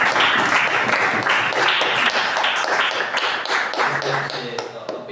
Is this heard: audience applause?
yes